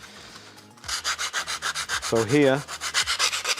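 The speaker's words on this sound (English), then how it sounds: "Just going to go away with sandpaper now and just clean up the edges." Sandpaper rubbing by hand along the edges of a TIE pilot helmet prop, a steady run of rhythmic scratchy strokes up close, with a brief spoken phrase at the start.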